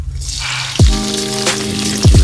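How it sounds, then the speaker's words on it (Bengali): Garlic and chili hit hot oil in a pan, giving sharp close splashes and sizzles at a few moments over a steady background hiss. "তেলে চলে গেল রসুন আর লঙ্কা"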